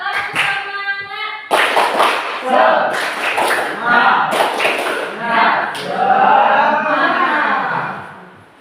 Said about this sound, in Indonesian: Ya, kita kasih tepuk semangat dulu ya.